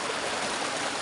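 Kottappuzha river stream flowing down from the hills, a close, steady broadband rush of running water with no other sounds over it.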